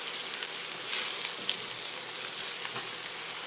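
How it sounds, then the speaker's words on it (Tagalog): Steady, close sizzling and crackling of eggplant frying in hot oil in a pan, continuous and fairly loud with no voices. "Para maprito-prito yung talong."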